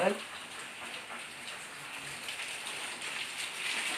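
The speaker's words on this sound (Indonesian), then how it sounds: "Aduh, hujan ada kieu tuh." Steady rain falls outdoors as a soft, even hiss of drops on surfaces, moderately quiet and constant throughout, with a brief sound at the very start and no clear speech.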